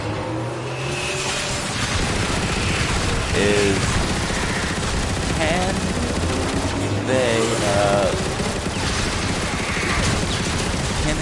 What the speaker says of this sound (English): Watch out for that dropship cannon.